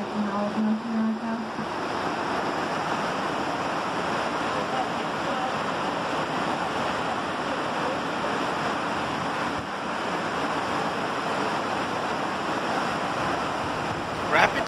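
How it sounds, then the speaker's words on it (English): Powerful swirling Class 6 rapids below Niagara Falls roar in a continuous broad rush of churning water, steady and loud throughout, with some wind buffeting on the microphone. "Rapidly swirling water below gives you a sense of vertigo."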